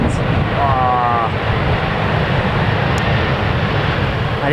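A jet airliner takes off from Newcastle Airport, its engines roaring loud and continuous for several seconds, a close, powerful rumble that holds steady throughout.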